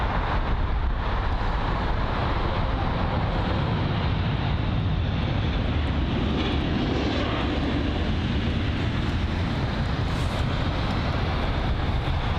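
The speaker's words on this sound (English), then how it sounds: "the Eurowings A320-200 is on departure from runway 27 left" Eurowings Airbus A320-200 departing from Heathrow runway 27 left, a broad steady jet engine roar filling the whole clip at moderate distance with no talk over it.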